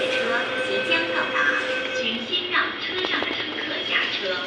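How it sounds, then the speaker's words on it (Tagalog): Train pulling into a station, a steady rumble and squeal of wheels with tonal whines, while someone talks over it. "Arriving na ang train."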